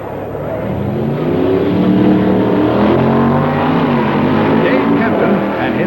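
Stock automatic drag racing cars from 1965, including a Plymouth and a Ford, accelerate down the strip in a loud, sustained engine roar, with a commentator's voice running over it.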